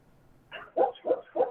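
A dog gives four quick, close barks in a row after a soft first yip, each short and sharp, in an otherwise quiet indoor room.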